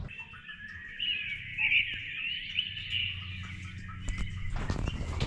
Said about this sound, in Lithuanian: Paukščiukai.